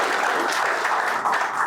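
An audience at a leadership and stress-management session for NDRF officers applauds, a brief, dense wash of clapping throughout.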